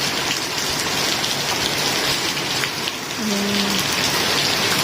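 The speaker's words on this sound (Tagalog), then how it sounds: "Ngayon alas 3 na, lakas pa rin ang ulan," Heavy afternoon rain pours steadily onto surfaces outdoors, a loud dense hiss throughout, with a single short spoken word briefly heard over it.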